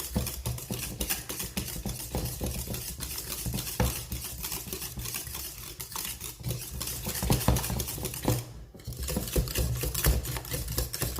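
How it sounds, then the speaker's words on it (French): Vigorous whisking of butter into hot pastry cream in a bowl, a fast steady scraping and rattling of the whisk that continues without pause, fairly close and alone with no talk. "Et là, vous fouettez encore énergiquement jusqu'à ce que le beurre fonde complètement."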